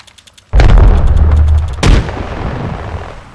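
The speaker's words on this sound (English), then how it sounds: "Throwing a thermite. Thermite out. Throwing an Oxstar. Frag out." Two heavy grenade blasts in Apex Legends, a thermite and a frag grenade, landing about a second apart, each a loud sudden boom with a long rumbling tail, preceded by faint clicks.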